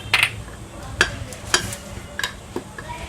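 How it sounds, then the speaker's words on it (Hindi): A thick chicken burger batter with spices, black pepper and garlic being mixed in a bowl: a few separate wet slaps and clicks of the spoon spaced about half a second apart, close and fairly loud. "इसे अच्छे से मिक्स करना है आपको।"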